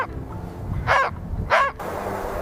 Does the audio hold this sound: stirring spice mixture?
no